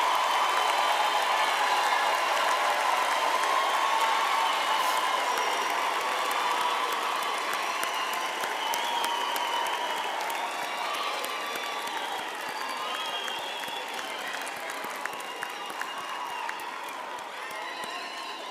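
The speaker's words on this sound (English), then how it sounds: "give our graduates a big hand for their hard work and perseverance" Sustained, dense applause from a large crowd at a university health sciences graduation ceremony, loud and steady throughout, slowly easing near the end.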